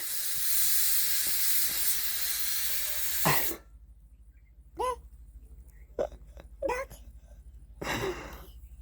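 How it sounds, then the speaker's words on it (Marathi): A pressure cooker vents its steam with a loud, steady hiss that runs for about three seconds and then cuts off abruptly. Short, scattered voice sounds follow in the quieter stretch. "कुकरची हवा सोडून दे"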